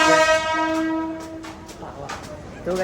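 Mumbai local train at Andheri station: a sustained horn tone rings out over rumbling carriages and station noise, fading into busy platform ambience with a brief second tonal blast near the end.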